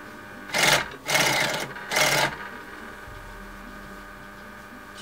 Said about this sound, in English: I'm hemming the bottom of the curtain.